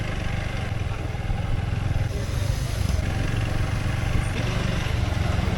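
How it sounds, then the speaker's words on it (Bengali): A motorcycle rides along a green rural road through paddy fields with a continuous loud engine drone and rumble of wind and road noise. "বাইক নিয়ে বের হয়ে গেলাম সবুজ পথ ধরে"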